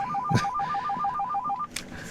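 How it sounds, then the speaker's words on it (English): A telephone ringtone trills in a quick warbling pattern of rapid alternating beeps, fairly close, with a couple of brief knocks around it. "my phone is ringing"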